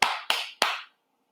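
Three sharp hand claps at an even pace, each ringing out briefly before the next, then silence.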